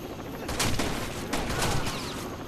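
Shotgun blasts from the video game Rainbow Six Vegas 2, two or three sharp, loud reports spaced about a second apart over a steady background rumble.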